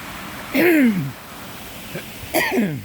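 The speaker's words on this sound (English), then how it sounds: "Still got a bit of a cough." Two short, harsh coughs a couple of seconds apart over a steady rushing background, close to the microphone.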